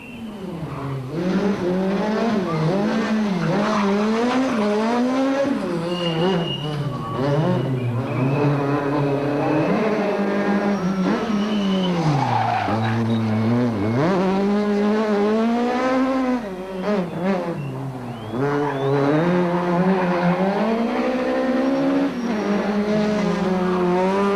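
A rally car at the Volkswagen Rally 2005, heard from inside the cabin: loud, continuous engine drone rising and falling through gear changes across the whole stretch.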